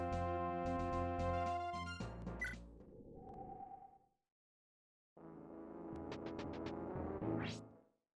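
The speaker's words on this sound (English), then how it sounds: "Spooky sound effect for enemy phase" A spooky synthesized enemy-phase sound effect from the Fire Emblem: Thracia 776 video game, with layered tones, a sharp rising sweep, a brief silent gap, then a second swelling phrase ending in a high chime.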